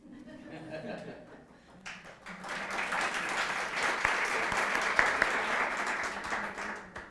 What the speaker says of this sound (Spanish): iba a ser la primera cuña publicitaria aplaudida de la historia de la radio y ha sucedido